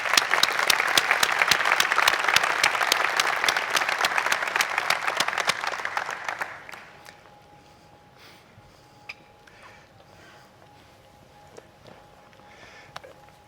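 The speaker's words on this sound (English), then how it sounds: "I want to give them a round of applause for what you're about to see in the next 2 days." Audience applause at a smart cities keynote on urban innovation, a dense steady clapping crowd for about six seconds that then fades to a quiet room with scattered faint sounds.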